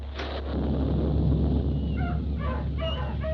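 Radio-play sound effect of cats meowing and dogs whimpering and yipping together, a short, close, busy burst of animal cries over a low hum.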